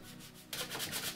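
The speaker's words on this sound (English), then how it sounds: "just give it a real light sanding to knock off any" Soft, steady light sanding rubs across primed metal, quiet at first and then a little louder and brisker.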